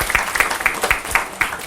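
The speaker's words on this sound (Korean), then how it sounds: "야, 박수." A small audience at a talk claps in a steady, rhythmic pattern, about six sharp claps spaced evenly, close and moderately loud, with no voices.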